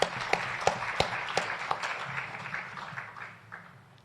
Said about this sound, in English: Put them all together and let's give them a round of applause.